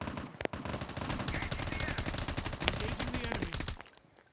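Call of Duty Mobile gunfire: a continuous stream of rapid automatic shots at a steady pace, with a heavier crack partway through, before the firing cuts out near the end. There is no speech.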